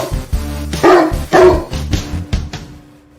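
A dog barks several times in quick, loud bursts, close and unaccompanied, played as a 'dog of the day' cue on a Thursday Night Football preview show.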